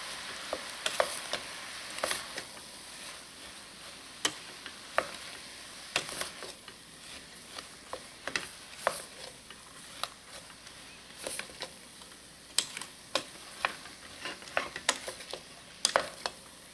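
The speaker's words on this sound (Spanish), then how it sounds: "Revolvemos." Spoonful of Chilean empanada pino filling stirred in a pan with oregano, giving soft irregular scrapes and clicks over a faint steady sizzle, close and fairly quiet.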